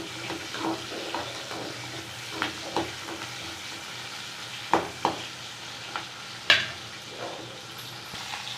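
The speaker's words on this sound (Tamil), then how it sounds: "நல்லா கொஞ்சம் வெங்காயம் வதங்கட்டும்" Onions sautéing in a pan for pirandai chutney make a steady soft sizzle, with scattered spatula scrapes and a few sharp clinks, nearby and moderately loud.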